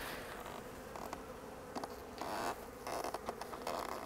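Honeybees buzz around an open hive during an inspection, forming a faint, steady hum with scattered louder buzzes as individual bees fly close.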